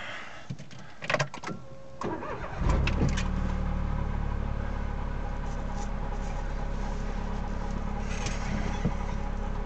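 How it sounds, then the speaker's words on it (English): A Smart Fortwo's engine cranks and catches after a few clicks and whirs inside the cabin, then settles into a steady, loud idle that continues to the end. "We'll just start the car up."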